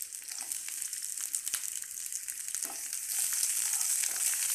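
Onion and tomato pieces sizzle steadily in about two spoons of hot oil, cooking down for a soya chunks masala gravy curry. The frying hiss stays close and continuous, with occasional stirring crackles, and swells slightly louder toward the end.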